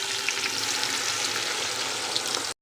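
Chopped onions, one and a half kilos, frying in hot oil in a heated cooking pot for mutton biryani, a steady dense sizzle that holds loud and close throughout with no voices.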